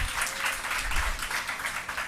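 A church congregation claps together at a temple service, a moderately loud, continuous wash of hand claps with some rhythmic pulsing and no talking over it.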